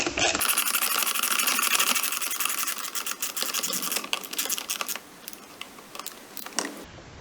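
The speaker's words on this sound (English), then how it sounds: "Just going to tighten this up now. It's actually a pretty long bolt" A power tool whirs steadily while tightening a long headlight bolt on a Volkswagen Golf mk4, a close, high buzzing run that fades into irregular clicks and rattles toward the end.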